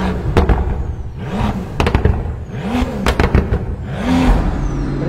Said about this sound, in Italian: mettiamo in moto la macchina